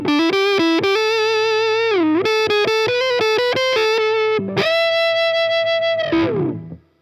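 An Ibanez Iceman electric guitar played on the neck pickup with the tone rolled off carries a sustained, distorted, vocal-like lead line of bending notes, loud and close with no talk, before a final note fades out.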